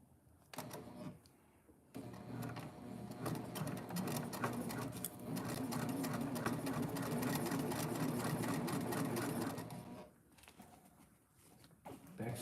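A sewing machine runs steadily for about eight seconds while back stitching a seam with an eighth-inch top stitch on a bag. The motor whirs close and loud, with quieter handling noises before and after.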